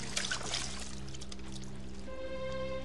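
Water pours steadily in a continuous splashing stream, with a low hum and steady tones running underneath throughout.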